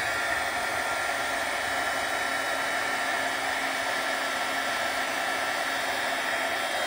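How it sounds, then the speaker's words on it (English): A heat gun blows on autumn leaves, a steady loud whooshing hiss that runs unbroken for several seconds with no talk over it. "And then we're gonna get the heat gun"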